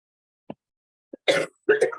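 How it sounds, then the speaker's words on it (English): A couple of short throat sounds followed by two rough, breathy coughs, close and distinct in an otherwise quiet room. "I'm just going to cough for a second."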